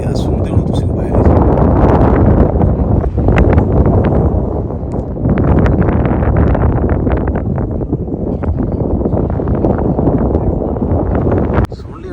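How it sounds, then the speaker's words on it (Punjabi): Strong gusting wind buffets the microphone outside a village house in rural Punjab, a loud, continuous roaring rush that swells and eases for most of the stretch, with speech likely mixed in. "ਬਾਹਰ ਇੰਨੀ ਹਨੇਰੀ ਚੱਲ ਰਹੀ ਹੈ ਨਾ ਜੀ, ਸ਼ੂ ਸ਼ੂ ਸ਼ੂ ਦੀਆਂ ਆਵਾਜ਼ਾਂ ਆ ਰਹੀਆਂ"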